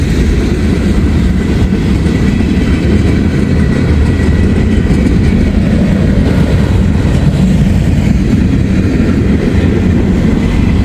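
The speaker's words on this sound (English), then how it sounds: "Got some potash cars here." A slow freight train rolls steadily past up close, its empty potash cars rumbling loudly with a continuous clickety-clack of wheels over rail joints and no voices.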